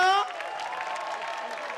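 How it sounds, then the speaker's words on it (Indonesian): Studio audience at a dangdut talent show breaking into applause and shouting, a dense sustained roar of clapping and cheers after a brief sung or spoken tone at the start. "Mana tepuk tangan sama teriakannya dong?"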